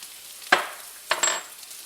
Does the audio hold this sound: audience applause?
no